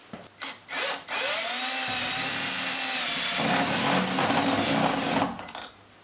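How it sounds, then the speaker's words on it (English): A power drill whirs steadily at close range for several seconds, boring a 10 mm hole in a UPVC door with a strained, grinding pitch before stopping. "So I'm now going to proceed to drill that."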